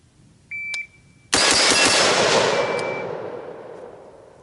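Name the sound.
four gunshots from a 7.5-inch AR-15 rifle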